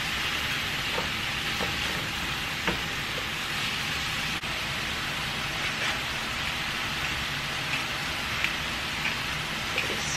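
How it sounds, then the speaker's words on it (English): Squash sautéing in a pot with pot roast liquid gives a steady, close hiss of sizzling, with faint scattered pops and no talking. "Saute this up."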